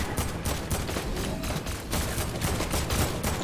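Fortnite gunfire sounds as a dense, continuous rapid-fire stream of shots, loud and close, filling the whole stretch without pause.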